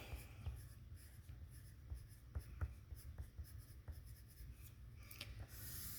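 A marker or chalk writing on a board in a maths lesson on multidigit multiplication, giving soft scratchy strokes with a few sharp taps over a steady low room hum, close and fairly quiet, with no talk.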